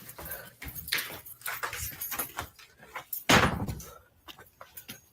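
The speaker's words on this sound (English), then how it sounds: "Knock on the door, Thomas." Knuckles rap on a door in a series of sharp, uneven knocks, with one heavier, louder bang partway through, all close by.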